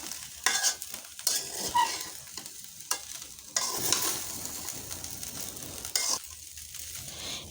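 Vegetable fried rice with winter vegetables and coriander leaves being stirred in a pan, a steady soft sizzle broken by repeated scraping strokes of the spatula, close and fairly quiet, with no talking.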